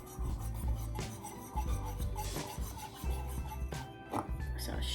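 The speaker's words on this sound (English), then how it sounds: "just take the whisk and whisk this together" A whisk scrapes and rubs rhythmically through a seasoning mixture for pork chops in a bowl, close and fairly loud, with repeated quick strokes and no talking.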